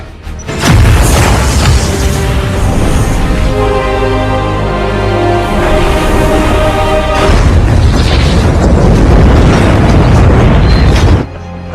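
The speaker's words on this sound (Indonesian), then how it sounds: "Mikey dan Presiden bisa selamat dari ledakan itu" A massive, sustained film bomb explosion roars loudly with deep rumbling and crashing debris, continuing for several seconds before cutting off abruptly.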